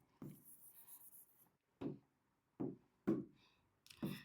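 Chalk or marker writing on a board in a maths class, heard as a run of scratchy strokes followed by several sharp, separate taps and scrapes at irregular intervals, faint and close with no talk over them.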